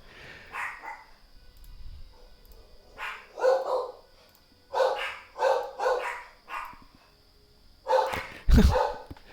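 A dog barks in a series of separate sharp barks, some in quick pairs, moderately close with quiet gaps between them and no talking.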